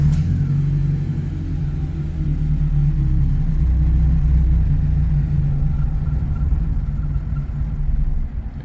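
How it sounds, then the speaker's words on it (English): A car engine wired through a main relay conversion and kill switch catches briefly, giving a loud low rumble that holds for several seconds and then fades as it dies, with no one talking. "It'll probably fire up for a second because it's going to be fueling the cylinders from just running"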